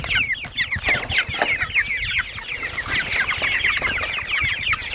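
A flock of chickens, likely young birds being raised alongside turkeys in a coop, clucks and chirps continuously, with many overlapping busy calls at close range and no talking.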